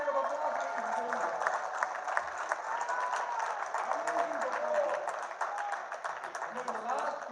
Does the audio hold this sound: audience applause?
yes